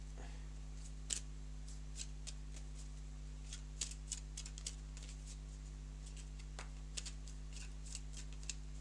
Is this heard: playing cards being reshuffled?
yes